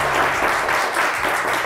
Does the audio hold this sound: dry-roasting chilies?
no